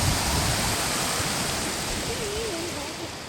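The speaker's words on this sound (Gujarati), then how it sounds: "હવે ફૂલ પાણી ચાલુ." A river in full flood rushes past in a dense, unbroken roar of water close by, with a faint voice briefly audible beneath it.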